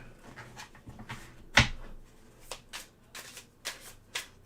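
Stiff game cards being shuffled in repeated short riffling bursts, close and fairly quiet, with one sharper snap partway through.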